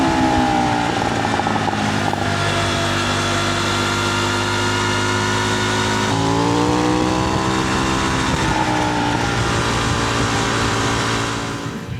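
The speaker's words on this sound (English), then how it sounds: "now back on my bike, so you can hear the engine sound" A motorcycle engine drones loud and close while riding, a steady harmonic hum that dips and rises gently in pitch as the throttle shifts, with no talking.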